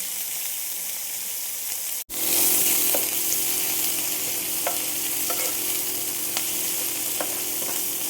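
Sliced onions and black cumin seeds frying in a large pan of oil after fish was fried, a steady close sizzle with occasional stirring scrapes and a brief dropout partway through, no talking.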